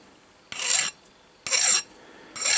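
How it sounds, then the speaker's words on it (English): Three rasping strokes of a hand file across the cut end of a brass rod, each stroke about a third of a second long and evenly spaced, close and alone with no talking. "I'm going to get a file and just take that off the end first"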